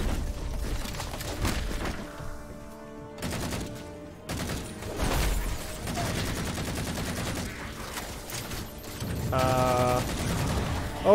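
Gunfire rattles through a Halo 4 firefight in repeated bursts and volleys, with mechanical clanks and a shield alarm, loud and close, and a person speaks between shots.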